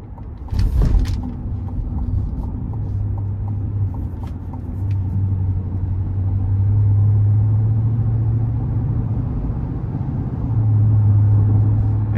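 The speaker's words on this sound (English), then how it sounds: "And just a nice strong growl from the engine bay." A 2023 Chevy Tahoe RST engine gives a low, steady drone while driving, swelling and easing slightly as the road rumble continues, with a sharp knock or thump near the start and no talk.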